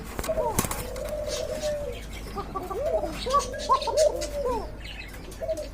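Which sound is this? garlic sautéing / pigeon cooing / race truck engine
pigeon cooing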